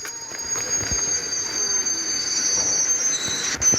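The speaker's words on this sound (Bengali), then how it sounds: "এই দেখো গাইস, ট্রেনটি এখন আসছে আমাদের দিকে।" A train pulls into a railway station in a video game, giving a steady, fairly loud rolling rumble topped by thin, high metallic wheel squeal throughout, with no talking.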